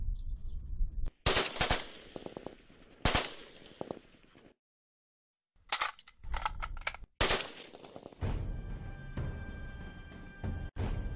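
A Type 81 automatic rifle fires sharp, loud bursts and single shots in irregular clusters, broken by a pause of silence, with mechanical rattles between shots at close range.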